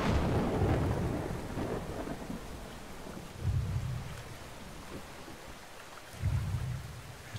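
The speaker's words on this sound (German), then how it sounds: "Der Controller vibriert bei jedem Donner" Thunder rolls through a rainstorm in the game Brothers: A Tale of Two Sons, with a loud opening rumble and two deeper booms a few seconds apart over steady rain.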